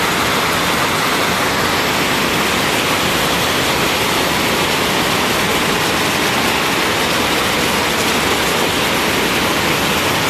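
Floodwater rushing through a street canal at an intersection during torrential rain in Sullana, a loud, dense, continuous roar of water that holds steady throughout with no voices.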